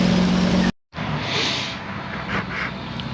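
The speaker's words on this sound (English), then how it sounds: "I'm going to keep driving." A truck driving along a highway on a long trip to Tennessee, heard as a steady broadband road rumble that briefly cuts out, then returns at a similar level.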